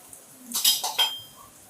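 A spoonful of garam masala goes into a Maharashtrian cabbage bhaji in a home kitchen, giving two quick metallic clinks of a spoon against the pan, fairly close and moderately loud over a quiet background.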